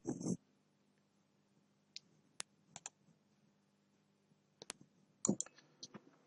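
Computer mouse clicking in a quiet room, a few sparse, sharp, close clicks scattered across the clip, some in quick pairs, over a faint low hum.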